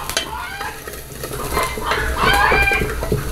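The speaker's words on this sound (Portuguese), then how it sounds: "agora eu vou deixar ele fritar até soltar a gordura" Chopped bacon frying in a pan as it renders its fat, a steady close sizzle and crackle with stirring scrapes that grows louder toward the end.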